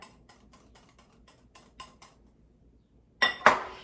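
Pasta salad with dill pickle being stirred in a bowl: a run of light, evenly spaced utensil clinks and taps, then a short pause and two louder, sharper scraping clatters at the end, close and without talk.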